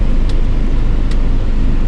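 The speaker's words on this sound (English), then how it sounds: "This is the busy road, MacArthur Highway, right here. Crazy traffic." Heavy traffic rolls along the busy MacArthur Highway in Tarlac City, Philippines, a steady loud wash of car and engine noise with no gaps.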